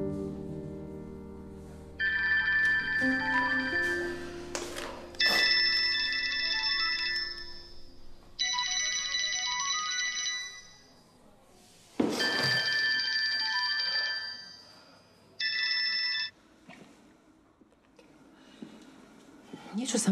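Telephone ringing repeatedly and going unanswered in a hospital drama, several long electronic ring bursts separated by pauses, with people talking over and between the rings.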